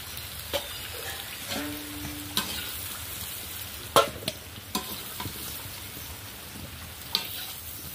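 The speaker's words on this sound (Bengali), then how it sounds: "আলুগুলো সবটা দিয়ে আমি ভেজে নিচ্ছি।" Potatoes frying in oil in a wok, giving a quiet, steady sizzle broken by a few sharp clicks and scrapes as they are stirred.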